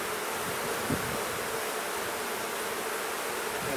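Honeybees hum in a steady, dense drone from an opened hive during a failed double split, the buzzing continuous and fairly close throughout with no speech.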